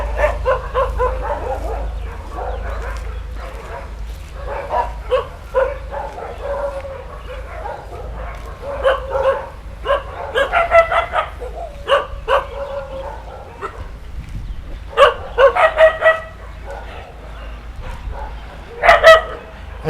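Several dogs at a shelter bark and yip in irregular bursts, some close and loud, others farther off, with occasional whimpering between outbursts over a low background hum.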